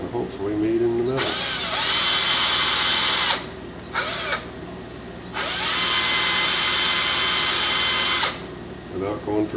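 A power drill bores into a carved wooden coffee pot from each side in turn: two long, loud high whining runs separated by a brief burst, close by, with a faint voice at the start and end.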